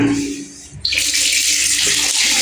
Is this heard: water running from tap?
yes